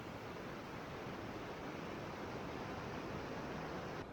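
Steady rushing of water at the outlet creek of Blueberry Lake in the Fitzpatrick Wilderness, Wind River Range, a constant broadband flow heard close and alone with no voices.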